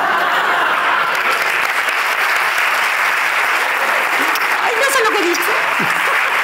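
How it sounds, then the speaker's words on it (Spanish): Loud, sustained audience applause fills an awards ceremony hall, a dense steady clapping from a crowd that carries on throughout, with a voice briefly heard over it near the end. "un aplauso para ellas"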